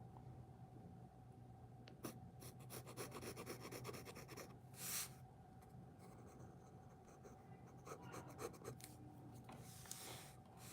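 Graphite pencil scratching and rubbing across paper during a live drawing session, with steady close strokes and a few sharper scrapes, no talking.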